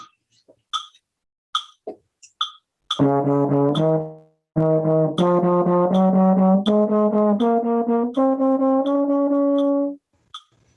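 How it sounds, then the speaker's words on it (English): A trombone plays a rising major scale in steady triplets, loud and close, after a few sharp clicks and taps at the start. "first I'll sort of demonstrate maybe playing triplets on just a major scale"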